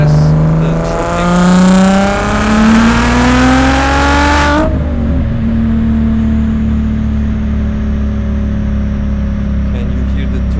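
Audi S4 B5 with its V6 biturbo engine pulling hard through a gear in close, loud acceleration, rising pitch with turbo whistle, then a sudden drop to a steady cruise drone after the shift.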